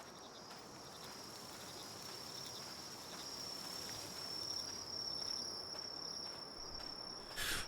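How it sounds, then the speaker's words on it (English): Looping cicada chirps from the video game Palworld, a steady high insect drone with faint pulsing, continuous and fairly quiet across the whole stretch with no voices. "the cicada loop? You don't like it?"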